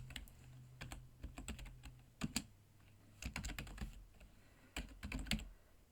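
Bursts of typing on a computer keyboard come in quick irregular clusters of keystrokes with short pauses, close and clear against a faint low hum, with no voices.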